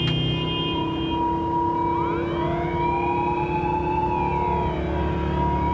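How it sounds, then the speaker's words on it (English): Emergency vehicle sirens wail in a racing video game, rising and falling over a constant loud engine drone, with several overlapping tones sweeping through. "there's a lot of different sirens going on as well"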